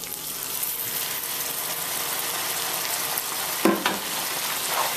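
Risotto rice with portobello mushroom and spring onion sizzles steadily in a hot pan while it is stirred, a close, continuous frying hiss with a louder scrape near the end.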